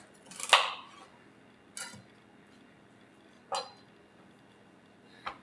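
Celery stick chopped in half with a knife, four sharp separate chops on a board, the first loudest, spaced over a few seconds in a quiet kitchen with no talking.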